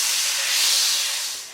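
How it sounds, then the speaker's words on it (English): Butter melting and sizzling in a frying pan: a steady, loud hiss with no breaks, swelling slightly and then easing toward the end. "you use half that amount of butter and melt it in your frying"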